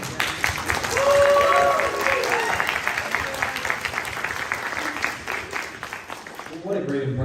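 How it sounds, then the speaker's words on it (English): Audience applause at a New York Comic Con 2023 panel for a Troma radio play, a sustained spread of clapping from a crowd with voices mixed in, fading out near the end as speech resumes. "I just want to give her a round of applause."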